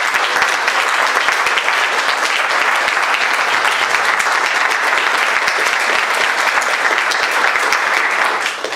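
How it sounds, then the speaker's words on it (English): A room full of people at an induction ceremony applauds steadily, a dense, sustained clatter of clapping that holds evenly before starting to fade at the end. "You can give them all a round of applause."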